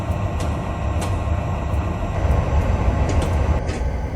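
A Southern Pacific SD40 diesel locomotive with a snoot nose, number 4272, rumbles steadily with a low engine drone and faint high squeals, continuous and fairly close, with no talking.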